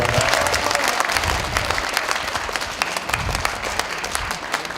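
Audience applause at a Korean lawmaker's constituency report meeting: dense, steady clapping from a large crowd, loud and continuous throughout with no talking over it.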